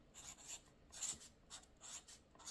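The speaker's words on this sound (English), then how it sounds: "So I'm going to write up here," A pen writes in a paper planner during a monthly budget setup, block capitals and cursive, giving soft, close scratchy strokes in short bursts with brief pauses between them.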